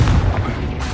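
A Confringo blast spell exploding in Hogwarts Legacy: a single loud, short booming burst that hits at once and quickly decays into a low rumble.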